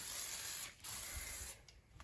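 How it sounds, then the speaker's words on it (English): Two bursts of hissing Lysol disinfectant aerosol spray, the first longer, separated by a brief pause, close and fairly quiet. "And then I'm going to give it a good spray of Lysol."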